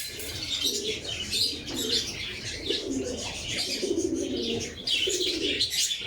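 Many pigeons on a farm keep up a steady chorus of soft rolling coos, calls overlapping nearby, mixed with higher chirps and occasional rustle, with no voices.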